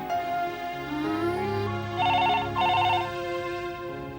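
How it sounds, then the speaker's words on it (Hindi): A telephone rings in two short warbling bursts over soft background music, fairly close and clear. "हेलो दिवाकर, बेटी तुम्हारे लिए फोन है"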